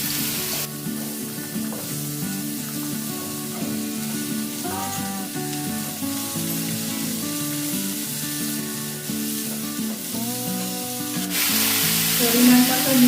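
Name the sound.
vegetables frying in mustard oil with panch phoron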